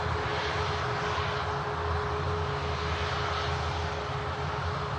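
A Ryanair Boeing 737-8200 airliner at Manchester Airport produces a steady, continuous engine roar with a faint whining tone, sounding fairly distant and unchanging throughout, with no talking.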